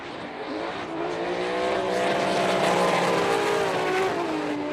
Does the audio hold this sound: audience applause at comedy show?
no